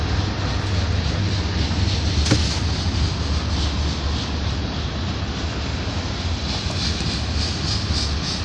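A Union Pacific manifest freight train rolls past at West Sacramento with a loud, steady, broadband rumble and rattle of railcars that holds without a break throughout.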